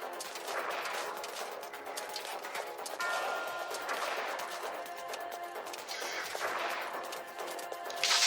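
Sustained video-game gunfire from a GameCube title, a dense run of rapid shots and crackling bursts that stays loud and steady throughout with no talking.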